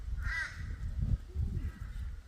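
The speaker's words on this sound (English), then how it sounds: "the birds are just knocking all the green mangoes out of the trees" Birds call from big old mango trees at an off-grid campsite, a few harsh caw-like cries rising and falling over a low rumble of wind or handling noise, fairly close.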